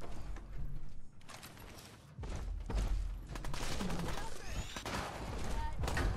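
Gunfire in the Fallout 4 video game, rapid bursts of shots in a busy, cluttered mix with mechanical clanks, pausing briefly before more firing resumes.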